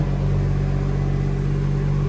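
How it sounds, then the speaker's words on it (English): A BMW 440i Gran Coupe's 326-horsepower six-cylinder engine idles steadily right after start-up, a close, even low rumble with a smooth hum and no revving. "We've started the car up now, so you can hear the 6-cylinder 326 brake horsepower engine."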